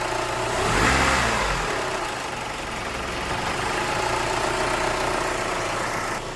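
A Chrysler PT Cruiser engine running just after a timing belt and intake gasket replacement, a steady close idle with a brief rev early on, then settling into an even hum with a slightly unsettled idle.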